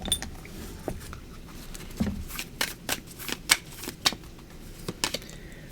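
Tarot cards being shuffled by hand, a run of crisp papery riffles and snaps with sharp clicks, close and moderately loud with no talk.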